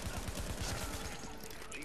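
An enemy turret in The Division rattles off rapid automatic bursts, a dense, fast stream of gunfire that stays loud and continuous with faint voices mixed in.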